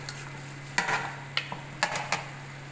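Mutton for biryani being stirred in a pot, a few distinct scraping clinks of the utensil against the metal over a faint steady background hum, close and fairly quiet.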